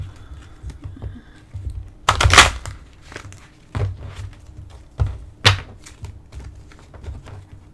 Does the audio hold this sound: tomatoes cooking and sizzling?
no